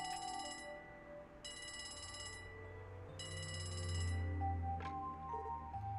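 A telephone rings in the video game Trails From Zero, three bursts of bright, trilling electronic chime in an even rhythm, sounding over steady background music with a low drone building beneath.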